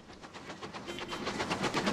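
Trains running on a UK rail network in Transport Fever 2, a faint, steady rumble with soft rhythmic clicking of wheels over rail joints that builds slightly, with no voices present.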